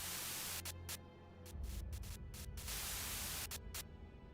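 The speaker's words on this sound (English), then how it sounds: "A sudden buzz of white noise breaks through the truck's silence." White-noise radio static crackles inside a truck in Limbus Company, a harsh steady hiss broken by sharp on-off bursts, with a low hum underneath early on.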